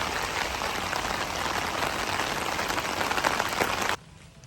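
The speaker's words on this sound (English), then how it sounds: "It's raining, it's pouring." Rain falling on a mountain hiking trail near Stone Mountain, a steady, close hiss of drops that holds evenly for about four seconds, then cuts off abruptly, leaving quiet.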